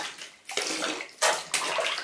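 A small child splashes in bath water, making several loud sloshing bursts in quick succession, close by with no talk.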